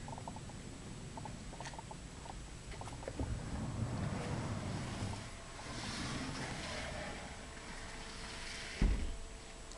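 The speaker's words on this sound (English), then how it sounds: "Forgive the parts washer noise." A parts washer runs in a machine shop as a steady, faint whooshing and rumbling hum with light pattering and scattered clicks, plus one sharp knock near the end; no talking.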